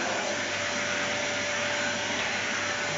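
A hoover vacuum cleaner run by a seven-year-old child at home, a steady loud motor whine and airflow rush with a constant tone throughout.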